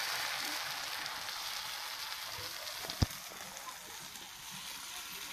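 Rice-flour chhilka roti batter sizzles on a hot griddle over a gas flame, giving a steady broadband hiss with a single sharp clack partway through. A person talks over the cooking.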